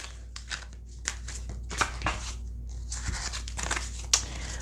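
Tarot cards shuffled by hand, giving soft crinkly riffles and rustling snaps in uneven bursts, close and fairly quiet over a low steady hum.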